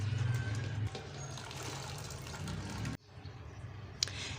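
Water pours from a tap over mutton liver set in a strainer to rinse it, a steady close splashing stream that continues softer after a brief break.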